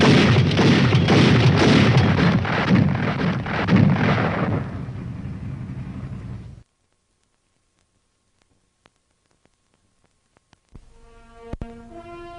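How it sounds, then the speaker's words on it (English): A fully automatic weapon firing 240 rounds a minute rattles in a loud, dense burst of rapid shots, then cuts off to silence before a few scattered bangs follow. "When it is used as a fully automatic weapon, it fires 240 rounds a minute."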